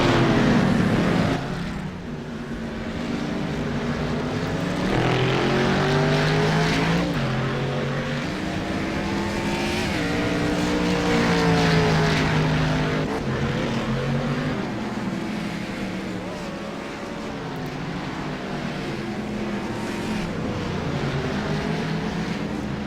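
Race cars circling during a long 40-lap race, a continuous loud engine drone with rising and falling pitch as cars pass, steady throughout with no clear breaks.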